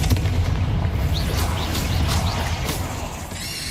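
Booming fire-spell blasts from the Confringo curse in Hogwarts Legacy, a dense low rumble of repeated explosions with crackling bursts throughout, loud and continuous with no talking.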